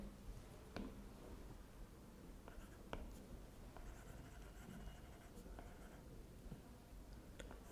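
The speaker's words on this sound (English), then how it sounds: "I just erase it and write." Chalk or marker writing on a board during a lecture makes faint, scattered scratching strokes and light taps in a quiet room, soft and intermittent throughout.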